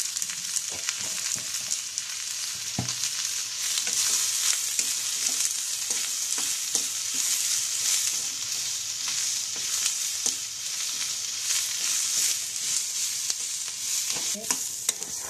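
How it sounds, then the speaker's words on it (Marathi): Onion and coconut masala paste roasts in a pan with salt, giving a loud, continuous close-up sizzle with frequent scraping and clicking stirs. "हे वाटण लवकर भाजण्यासाठी थोडं मीठ टाकायचं"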